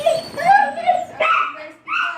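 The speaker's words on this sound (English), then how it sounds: "cattle dog." A cattle dog, a heeler, gives a few close, loud whining yips and barks in quick succession, clear with no talk over them.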